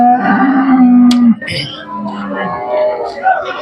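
A Khillar cow at a cattle market in Sangola, Solapur, moos loudly and close by, a long low call followed by another, with people talking around it.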